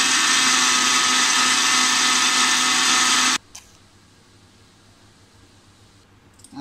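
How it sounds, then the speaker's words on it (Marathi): A mixer grinder grinds roasted coconut, a loud, steady whirring roar for about three seconds that stops abruptly, leaving a quiet room with a couple of faint clicks. "खोबरं थंड झाल्यावर आपल्याला हे वाटून घ्यायचं आहे"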